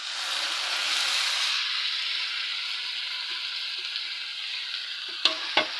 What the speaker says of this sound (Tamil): தக்காளியும் போட்டுட்டு நல்லா வதக்கி விட்டுக்கலாங்க